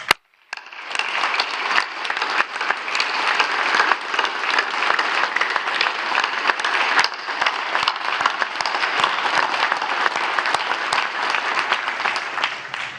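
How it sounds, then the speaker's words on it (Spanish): Large audience at an official army ceremony breaks into sustained, dense applause that stays loud and steady for over ten seconds, with no speech over it. "y le aplaudimos"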